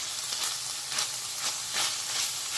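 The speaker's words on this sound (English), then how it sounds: "You can see it's just frying up some hamburger meat." Hamburger meat frying in a pan for spaghetti sauce gives a steady, close sizzle with gentle swells of crackle and no talk over it.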